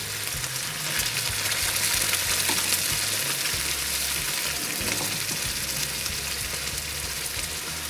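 Sausage meat frying loudly in a pan as pasta sauce goes in, a close, continuous crackling sizzle with occasional stirring, steady throughout and no voices.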